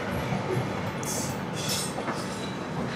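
A Duronto Express train on the Howrah–Bangalore route rolls past at steady speed, a continuous broadband rumble of wheels and carriages with faint hissing bursts riding on top.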